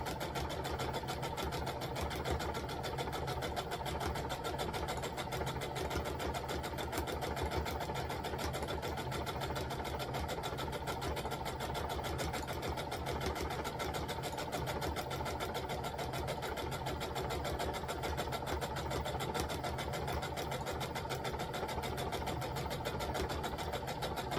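A sewing machine sews a custom lined valance, a steady, even whirring hum that runs without a break the whole time, with no talking.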